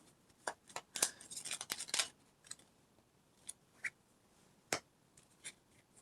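Tarot cards are shuffled quietly in short bursts of papery flicks and soft snaps, with pauses between, and no talking.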